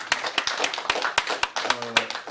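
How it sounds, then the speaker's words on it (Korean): Sparse applause at a Korean policy forum on national employment insurance, with distinct sharp claps in an uneven rhythm from a small audience, fairly close and loud, briefly overlapped by a low voice near the end. "두 번째 발제 수고하신 장기현 박사님께 다시 한번 박수 보내드립니다."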